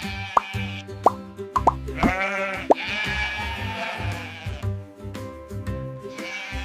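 Sheep bleating at a zoo, several wavering bleats overlapping with a few sharp plopping knocks, fairly close and loud against a busy background.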